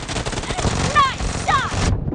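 Rapid gunfire from PUBG Mobile in an arena match, a dense rattling burst running almost continuously for about two seconds with short whooshing tonal sweeps, then cutting off abruptly.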